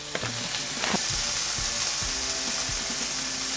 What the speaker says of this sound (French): on fait revenir les légumes quelques minutes, tout en remuant